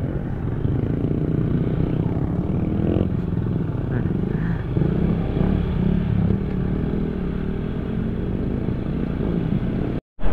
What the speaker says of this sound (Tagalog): Ang tutuling kasi ng mga motor ng mga kasama natin.